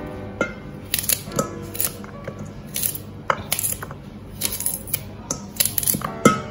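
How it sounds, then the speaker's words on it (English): A coconut is cut by hand for Jamaican rice and peas, giving a steady series of sharp, close clicks and scrapes at irregular intervals, with no one speaking. "Cut my coconut."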